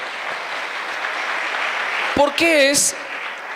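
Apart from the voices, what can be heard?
church congregation applauding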